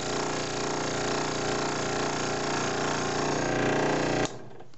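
A scroll saw cuts wood with a steady, close, buzzing rattle from its fast reciprocating blade. The sound holds evenly for about four seconds, then stops abruptly and a faint hum is left.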